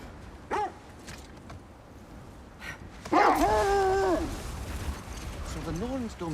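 Dogs in God of War Ragnarök give a short yip early on, then a louder whimpering, whining bark with wavering tones, followed by fainter whines under game ambience.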